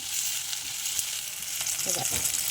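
Onions and green chilies sauté in a pan with a steady bright sizzle that holds for the whole moment, while a few soft stirring scrapes rise briefly near the end.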